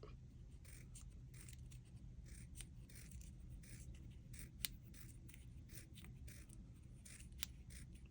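Scissors snip steadily through a thin paper strip while making small paper flowers, a run of soft, close crisp cuts with two sharper snaps near the end, with nobody speaking.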